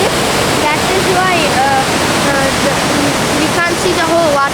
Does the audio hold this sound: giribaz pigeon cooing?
no